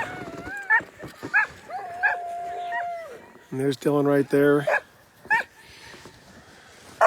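Sled dogs at the Tolsona Lake race checkpoint in -40F cold howl in long wavering tones, then break into bursts of rapid yapping barks, several dogs close by, with someone talking briefly over them.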